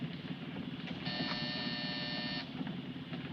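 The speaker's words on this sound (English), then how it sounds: "Hit that buzzer." A harsh electric buzzer in a 1952 crime-film scene sounds one steady, loud tone of just over a second, set over a continuous low rumble like an engine or vehicle interior.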